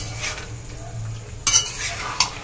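Boiled chickpeas stir-fried with spices in a pan for chana masala, a soft sizzle under stirring, followed by two sharp clinks of a spoon against the pan, close by, with no talking.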